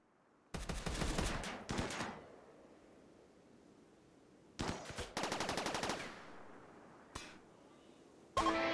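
Gunfire in the video game Rimworld, with rapid automatic bursts of shots in several separate volleys and quiet gaps between them, plus a single short shot near the end.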